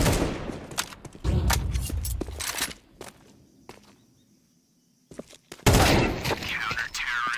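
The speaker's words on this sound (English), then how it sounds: "They are just shooting hard right now." Rapid gunfire bursts in an esports shooter video game match, loud crackling volleys mixed with footsteps, a near-silent lull in the middle, then heavy shooting resumes.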